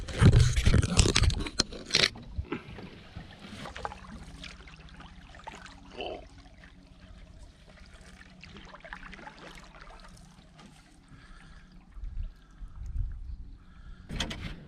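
Quiet paddle strokes and scraping of a small boat being paddled up Widgeon Creek, with soft splashes and knocks against the hull, close and intermittent.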